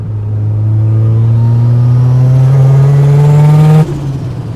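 A Mazda RX7 rotary engine revs hard, its smooth rising whine climbing for nearly four seconds before the throttle snaps shut and the note drops away, loud and close.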